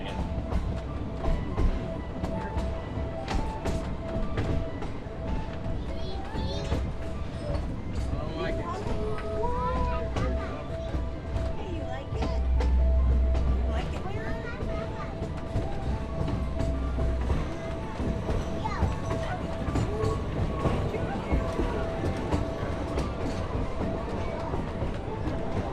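Wheels of a Halloween ghost train ride at Hesston clack steadily along the rails under a continuous rumble, with passengers talking throughout.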